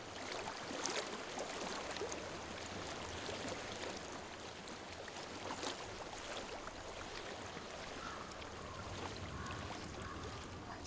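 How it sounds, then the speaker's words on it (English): Steady flowing stream of water in the game Hellblade: Senua's Sacrifice, a continuous broadband rush with no voices, constant and moderately distant throughout. "I hear water."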